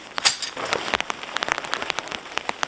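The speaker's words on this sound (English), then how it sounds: "those are big drops of rain" Large raindrops land in sharp, irregular taps on a nearby surface at a campsite, spattering quickly one after another with no voices.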